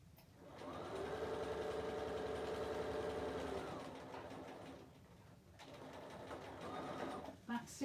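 A sewing machine back stitching a bag runs in a long steady whirring burst, then stops briefly and starts a shorter run, close and clear, with faint talk alongside.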